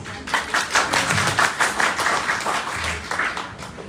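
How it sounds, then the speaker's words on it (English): An audience at a college public speaking contest claps in a steady, fairly loud burst of applause lasting several seconds, with no talking over it. "Can you give me a back clap hand, please?"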